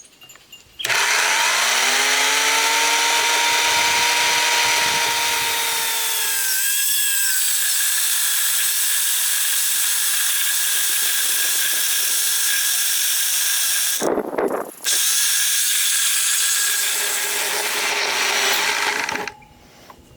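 Power saw cutting into a timber for an off-grid timber frame: the motor spins up to a loud steady whine, bogs and grinds through the wood, stops briefly, then resumes and cuts until winding down.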